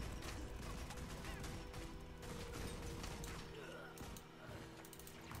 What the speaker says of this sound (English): What is shooting me? Is that a turret?